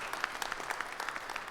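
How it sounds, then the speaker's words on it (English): A conference audience at a cybersecurity talk breaks into applause, a loose scatter of individual claps rising and falling steadily, moderately close and without voices over it. "Let's give him a round of applause."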